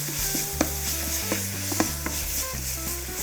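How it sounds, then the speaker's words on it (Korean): Chopped kimchi stir-fried with golden garlic in a pan sizzles steadily, broken by a few sharp scraping clinks of a utensil stirring, close and fairly quiet with no talking. "자, 이제 마늘이 노릇노릇해지면 준비해 놓은 썰어놓은 김치 넣어 볼게요"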